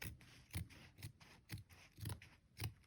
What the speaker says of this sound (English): I'm going to trim down the seam allowance on the right side